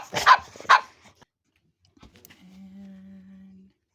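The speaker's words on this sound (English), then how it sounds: "everybody wants to go crazy and bark" Several dogs bark in two sharp bursts at close range in a home in the morning, followed by quiet, a few small clicks and a faint steady hum.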